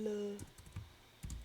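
Several quick computer keyboard keystrokes tapped in a short burst, soft and close, with a faint voice in the background.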